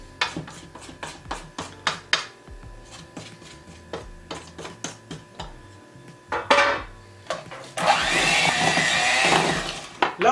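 A spoon scrapes and clinks against a bowl while yogurt cake batter is stirred, in a quick run of sharp taps and scrapes, closely recorded, followed by a louder stretch of whirring mixing near the end.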